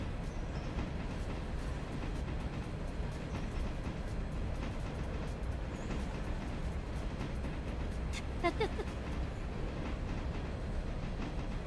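Steady rumbling rail noise of a train rolling along track in the Railroader game, a continuous low clatter with a brief squeal of wheels near the end, no talking.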